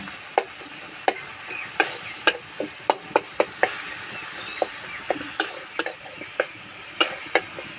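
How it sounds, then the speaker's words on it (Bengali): Spatula scraping and stirring tomato in a pan, a steady run of sharp, close clicks and scrapes under a faint sizzle, with no talk. "টমেটোটা এইভাবে একটু খুন্তি করে ঘেঁটে দেবো"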